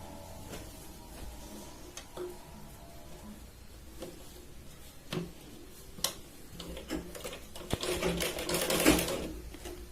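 A sewing machine stitches double seams along the back tucks of a cotton katori blouse, a steady ticking run of needle strokes with short pauses, close and moderately loud, rising toward the end, with no talking.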